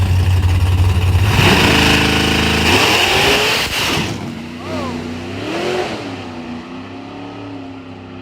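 A small-tire drag racing car's engine drones loudly nearby, rising and falling as it revs at the track, with crowd noise and voices mixed in under the engine.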